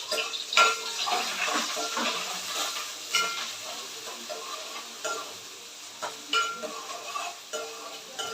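Chopped onions and green chillies sizzle and crackle in hot oil in a home kitchen pan while coconut rice and chicken curry are cooked, with a steady frying hiss and occasional stirring clatter, close and moderately loud, no talking.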